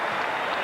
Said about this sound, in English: a round of applause for Vassiliy Jirov and Baby Joe Mesi